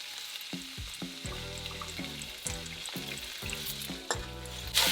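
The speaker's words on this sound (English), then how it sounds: "Fry your fish." Fish frying in oil over a low flame in a home kitchen, a close, continuous sizzle with crackling pops and a few clattering knocks of utensils against the pan, no voices.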